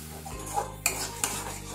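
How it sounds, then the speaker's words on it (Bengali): Spiced curry masala of cumin, coriander and Kashmiri chili powder with a splash of water stirred in a frying pan, a few close scraping strokes with soft sizzling beneath and sharp clinks of the spoon against the pan. "মশলাটা নেড়ে নিয়ে"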